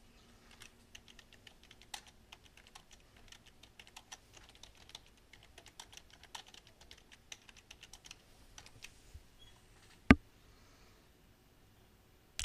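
Keys clatter steadily on a computer keyboard as a personal comment is typed into an edit field, a quiet, close run of irregular clicks with one sharper tap near the end and no voices.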